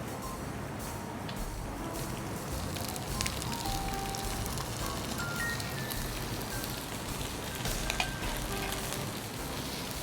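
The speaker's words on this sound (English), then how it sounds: "So now we put it in the hot pan with oil." Marinated fish sizzles in hot oil on parchment paper in a pan, a steady close crackling fry with scattered pops and spits continuing throughout.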